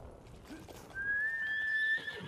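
Horses in the game Ghost of Tsushima give a clear, drawn-out whinny over faint hoof clops and soft background ambience, the neigh rising and holding for about a second.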